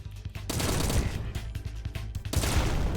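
Gunfire aimed at filing cabinets in the first-person shooter Agent 64, a dense run of rapid shots in a steady, loud stream, no speech over it.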